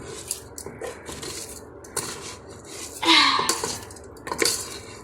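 Rice tipped into a cooking pot for stuffed cabbage rolls (malfouf), a clattering of grains and metal with a brief scrape of a utensil against the pot, close and fairly loud.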